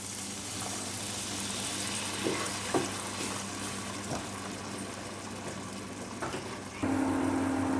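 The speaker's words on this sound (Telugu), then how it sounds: "ఇవి కొంచెం వేగాయి ఇందులో పాలు పోసుకోవాలి" Garlic curry sizzles steadily in a pan with occasional stirring clicks, then milk pours in near the end, bringing a sudden louder bubbling hiss.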